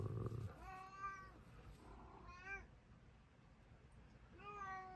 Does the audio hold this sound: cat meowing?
yes